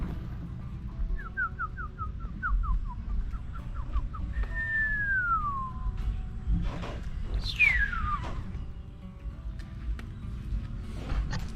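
Birds on a farm call outdoors in the morning, giving a run of quick repeated chirps followed by longer slurred whistles, fairly distinct over a low background hum.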